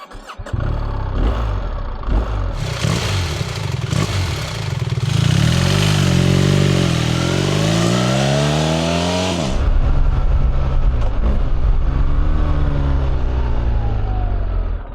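A BMW R1300GS motorcycle with an aftermarket QD exhaust revs hard and close with a deep, throaty note, climbing and falling through several blips before settling into a rumbling idle.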